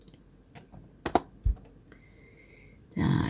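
Keystrokes on a computer keyboard during a PowerPoint exam exercise, a few separate clicks and taps followed by a firmer press of the Enter key, close and fairly quiet, with a brief burst of broadband noise at the end.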